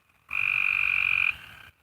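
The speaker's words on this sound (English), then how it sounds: "Yes, the frogs are very happy" A frog gives a single sustained trilling croak, about a second long, loud and near against a quiet outdoor background after heavy rain.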